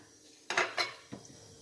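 Egg-dipped meat slices for brizol laid into a hot frying pan, giving two sharp clattering clanks close by followed by a softer knock, with no talk.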